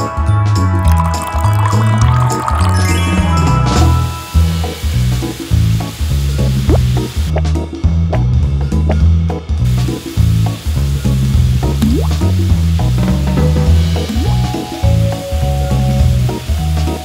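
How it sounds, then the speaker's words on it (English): Fish frying in a pan, a loud steady sizzle with crackling and popping that runs unbroken throughout, close up and with no one talking. "I'll fry the fish again."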